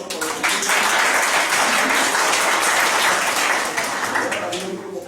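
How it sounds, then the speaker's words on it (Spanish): A lecture audience breaks into sustained applause, dense clapping swelling quickly and holding steady for several seconds before tapering off near the end. "Un aplauso para"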